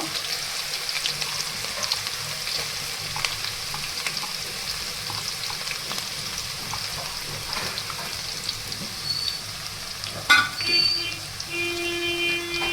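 Chopped green onion drops into hot oil for a tempering, bursting into a steady loud sizzle and frying crackle with occasional stirring clinks, a sharper spatter flaring near the end.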